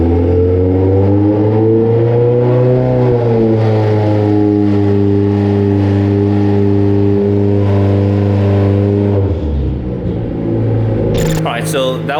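Honda K24 engine held steady near 3,000 RPM during break-in under load, a loud continuous droning hum with stable harmonic pitch, rising slightly early on, then dropping off near the end as the revs fall, with a brief clatter at the close.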